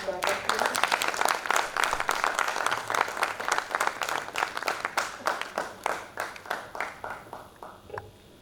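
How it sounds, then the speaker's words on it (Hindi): Audience in an auditorium applauding to welcome a speaker at a national conference, brisk clapping that starts dense and thins into slower, separate claps before fading out. "जोरदार तालियों के साथ स्वागत करें"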